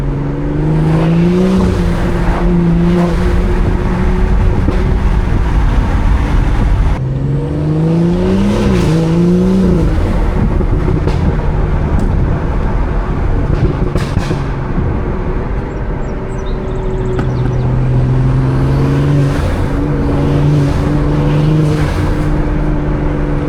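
A 500 whp B58-powered car is driven hard, with loud intake whoosh and rising and falling engine pulls through the gears, plus exhaust burbles on lift-off, heard from close inside the cabin.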